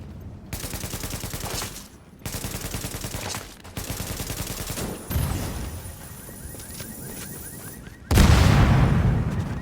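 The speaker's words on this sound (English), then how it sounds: "those explosions right now, someone could hear that from, like, all the way to Dark Zone 5" Repeated booming explosions and bursts of gunfire in a PvP survival video game, dense and loud, with a heavier blast near the end.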